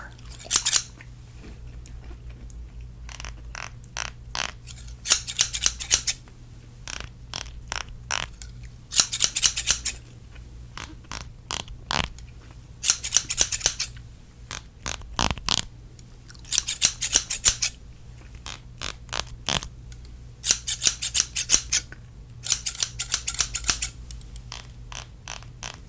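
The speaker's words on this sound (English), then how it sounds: "Let me cut your hair just a little bit more." Scissors snipping hair close up, in repeated quick bursts of crisp metallic cuts separated by short pauses, over a steady low hum, with no talking.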